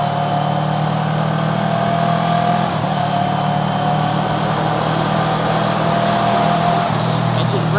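A vehicle on a suspension tuning test ride over a bumpy road engine-brakes with a steady, loud drone that stays close and continuous throughout, under a rider's voice.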